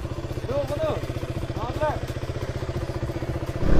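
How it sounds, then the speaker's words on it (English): A motorcycle warms up before a road trip from Arichan toward Mokokchung, its engine idling close by in a steady, rapid pulse. Brief voices sound over the beat partway through. "Let's warm up the bike."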